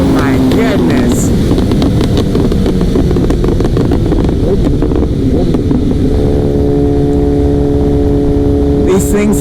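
A liter bike motorcycle engine accelerates hard with loud, continuous roaring and rising revs through the gears, close and dominant throughout.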